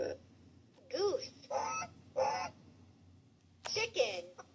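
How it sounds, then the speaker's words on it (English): A goose honks in several separate loud, nasal calls spaced across a few seconds, with quiet background between them. "Goose."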